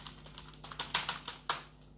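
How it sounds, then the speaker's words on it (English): Close keystrokes on a computer keyboard while entering details into an online college application form, a quick irregular run of about a dozen clicks with a few sharper taps, no voices. "I'm typing my father's name."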